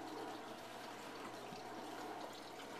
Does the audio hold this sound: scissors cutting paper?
no